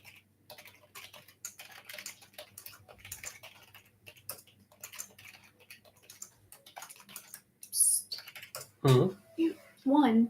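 Rapid, uneven keystrokes on a computer keyboard tap along steadily at close range during a live sports card break stream, followed by a few louder tonal sounds near the end.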